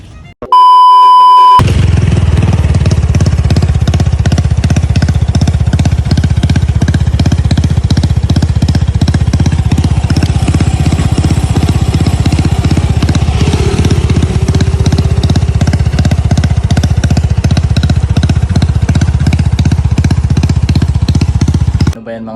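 Motorcycle engine fitted with a vacuum solenoid for a fuel-injection sound, running loud and close with a fast, even pulsing idle that holds steady throughout, after a short electronic beep at the start.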